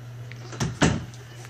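A door is swung shut onto a resistance band anchor, giving two muffled thuds close together, the second louder, against a steady low hum with no talking.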